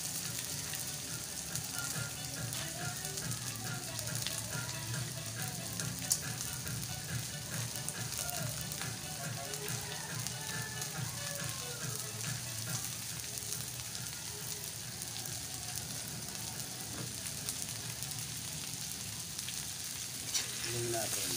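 Crab frying in a pan for ginataang alimasag gives a continuous close sizzle and hiss, with stirring and faint talk beneath it throughout.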